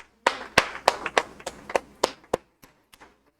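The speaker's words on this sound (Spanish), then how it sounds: "démosle un aplauso a ellos" A church congregation claps in a short, sparse burst of about ten distinct hand claps that thin out and fade over a few seconds, with no talking.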